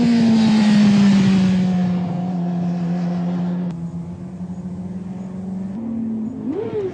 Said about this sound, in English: He's revving it, but too high and still on and off the brake lever, pogoing the bike.